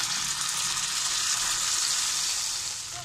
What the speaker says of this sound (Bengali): এখানে আদা রসুন এবং পেঁয়াজটা তেলের মধ্যে খুব ভালোভাবে ভাজা হয়ে গিয়েছে।